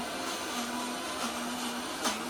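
A kitchen mixer runs steadily at home while sandwiches are being made, a constant motor whine that briefly dips and recovers, heard alone without talk.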